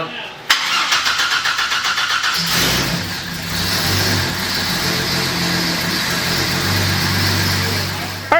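2010 Camaro SS V8 starting for the first time in a garage, with a churning starter cranking that catches into a loud, rough idle held steadily.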